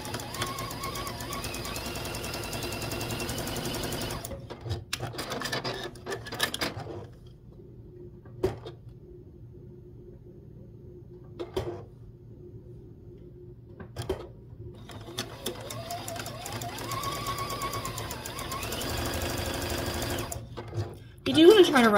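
A sewing machine stitches a quilt block in bursts of fast, steady mechanical whirring, pausing twice for long near-silent gaps with faint clicks, then resuming, with someone talking over parts of it.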